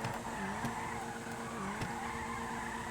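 Car drifting in a racing video game, tires skidding and squealing continuously with a sustained high-pitched tone that dips and swoops twice as the angle changes, over steady engine drone, no talking.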